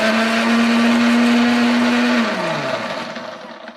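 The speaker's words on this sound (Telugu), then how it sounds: "ఇవన్నీ కలిపి నేను మిక్సీ చేస్తున్నాను." A mixer grinder blends an aloe vera gel hair paste. Its motor holds a loud, steady whine, then slows and winds down in pitch near the end with no talking.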